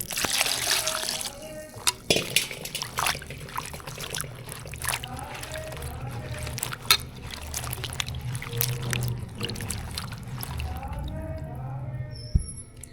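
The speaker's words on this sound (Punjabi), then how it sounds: "ਪਾਣੀ ਹੋਰ ਪਾ ਲਾਂਗੇ" Water is poured and trickles into a container while chilies are prepared for pickle, an uneven, fairly quiet splashing and dribbling with occasional knocks.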